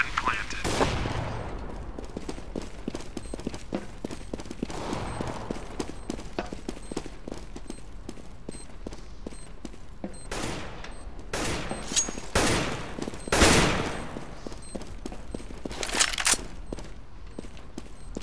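Gunfire in a CS:GO competitive match, with bursts of rapid shots and scattered single cracks alongside footsteps over an extended stretch.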